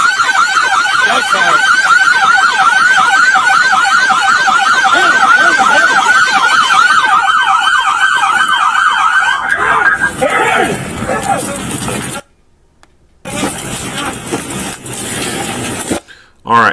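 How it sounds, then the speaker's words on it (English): A police car siren wails loud and close in a rapid repeating yelp, then shifts and cuts off, with shouting voices and crowd babble mixed in during a police shooting incident. "All right, so he just had to go turn the siren off on the car."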